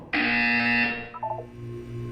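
A single loud, harsh electronic buzzer tone in the video game Portal 2, sounding for under a second before cutting off into a brief fading electronic blip.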